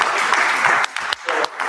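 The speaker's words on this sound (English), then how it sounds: "Give me a round of applause" A conference audience claps in a brief, loud round of applause that thins into scattered individual claps, with a voice briefly heard partway through.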